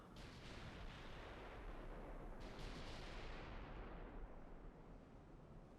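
Heavy warship main-gun salvo in the naval battle game Ultimate Admiral: Dreadnoughts, a loud, dense booming rumble that swells and sustains for several seconds before slowly easing off.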